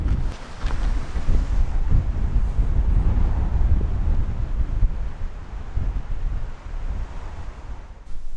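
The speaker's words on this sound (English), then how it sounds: "It's getting very windy and it's starting to rain" Strong wind gusts buffet the microphone high in Norwegian mountains as rain begins, a loud, rough roar that swells and eases without anyone speaking.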